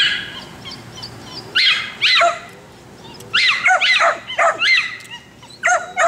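Several dogs bark and yip in short, sharp, high bursts, some in quick pairs, with brief quiet gaps between them, fairly close by.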